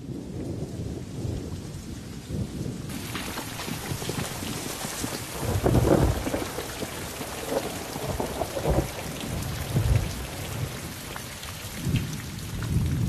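Heavy tropical rain pours steadily across a wild landscape, broken by repeated deep rolls and cracks of thunder in a full, loud storm with no voices.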